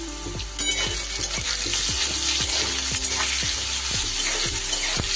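Thinly cut potatoes sprinkled with salt and turmeric fry in hot oil for a hilsa fish curry. A dense, steady sizzle runs throughout, with regular scraping strokes of a stirring spatula and no voices.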